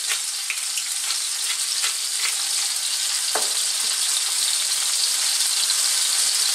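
Chicken seasoned with oregano and plenty of black pepper sizzles steadily in a pan over above-medium heat, a constant close frying hiss with occasional scrapes and clacks as it is stirred.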